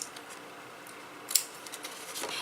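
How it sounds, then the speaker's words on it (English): Scissors make a few soft, faint snips while cutting wedges out of scored paper card tabs, with one sharper click standing out in a quiet room. "You'll want to cut a wedge out of each one of these tabs."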